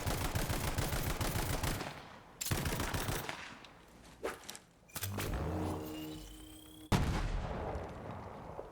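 Gunfire from assorted weapons in Borderlands 3: bursts of rapid automatic fire, heavy blasts, and sci-fi energy shots in quick succession, punchy and loud with short pauses between volleys.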